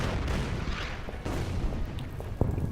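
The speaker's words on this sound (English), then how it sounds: "Yeah, we'll just keep shelling that anti-tank gun." Artillery shelling in the World War II strategy game Order of Battle: Pacific, heard as continuous rumbling booms and overlapping blasts with a sharper crack near the end, fairly loud and without speech.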